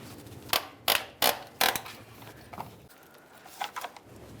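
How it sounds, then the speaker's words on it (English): A 13mm socket on a 1/4-inch ratchet breaking loose an exhaust manifold stud on a 2003-2011 Mercury Grand Marquis: four sharp, close creaking cracks, then a few softer clicks. "I'll use my 13mm on my 1/4" ratchet and break this free"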